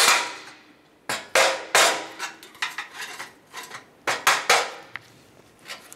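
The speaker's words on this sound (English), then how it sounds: "pry up, and tap with a screw with your hammer" Sharp metallic taps of a hammer striking a small pry tool while removing a 2011-2018 Dodge Ram 1500 front bumper, about ten irregular blows with short pauses between them, close and loud.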